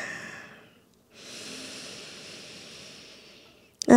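Slow, deep breathing during a pregnancy and postnatal yoga session: a soft exhale, a pause, then a long steady airy inhale up close, ending in a short sharp sniff.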